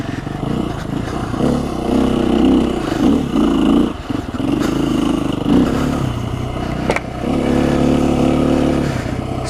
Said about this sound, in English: It's a 2014 KTM 350 xcf-w trail bike